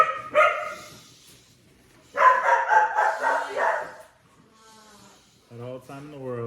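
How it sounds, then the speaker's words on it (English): Dogs barking in bursts in a room, with someone talking over parts of the commotion and the barks coming in clusters between his remarks. "The dogs are going crazy."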